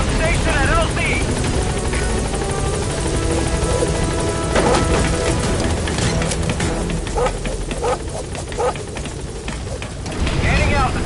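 The Pequod helicopter from Metal Gear Solid V flies close and loud, a dense, continuous rotor roar that runs throughout, with game voices talking over it.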